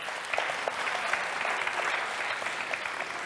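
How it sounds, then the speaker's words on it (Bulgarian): Audience applause at a live Bulgarian stage event, steady dense clapping from a crowd filling the whole stretch at even loudness with no talk over it. "Аплодисменти!"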